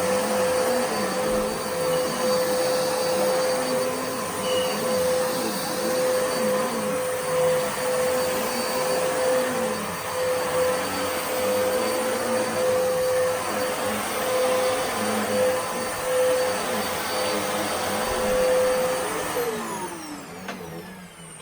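An Electrolux Powerlite Petlover vacuum cleaner runs continuously on carpet with a steady whining motor hum and airflow roar, close by, fading slightly at the very end; the belt may be worn.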